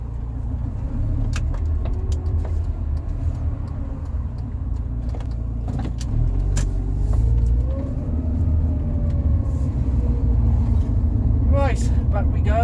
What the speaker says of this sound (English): That's a normal arithmetic beat of a combustion engine.